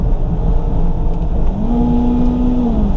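A 2002 Toyota Celica GTS automatic pulls hard after a downshift, its engine holding a steady drone that climbs in pitch near the end, heard from inside the car with no talking.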